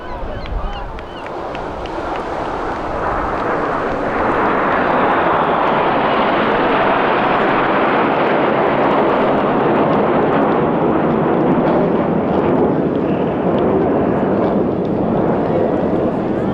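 Red Arrows jet aircraft flying in formation at a 2025 airshow at Clacton roar loudly overhead, a sustained, swelling engine rumble that builds and holds for many seconds.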